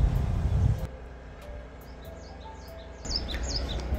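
Birds sing in a quiet traditional Korean village with lotus ponds and trees, several short faint chirps and twitters in the distance over a steady low rumble of wind or traffic.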